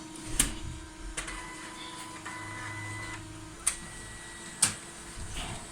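A Canon iSENSYS MF635C colour laser printer runs quietly with a low steady hum, broken by a few sharp clicks and ticks from its mechanism, with no talk.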